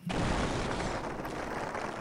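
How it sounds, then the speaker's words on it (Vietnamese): A deep, sustained rumbling boom rising from below, starting abruptly and rolling on as a dense, loud roar without distinct separate blasts. "tiếng nổ ầm ầm từ phía dưới truyền đến, đinh tai nhức óc"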